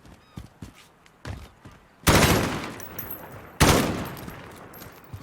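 Gunfire in Call of Duty Modern Warfare: two loud, broadband bursts of shots, each decaying over about a second and a half, preceded by quieter footsteps and handling clicks.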